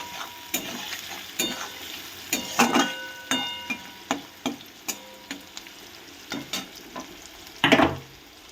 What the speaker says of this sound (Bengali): তাহলে পেঁয়াজটা একটু তাড়াতাড়ি ভাজা হয়ে যাবে